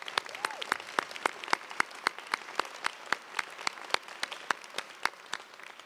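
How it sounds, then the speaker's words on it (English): Applause at a university commencement ceremony for UC Merced's School of Social Sciences, Humanities and Arts: a moderately sized audience claps steadily with distinct sharp individual claps standing out, no talk over it. "So join me in a round of applause for the staff at the University of California,"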